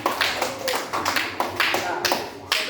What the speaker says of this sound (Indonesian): Tepuk tangan bersama kita.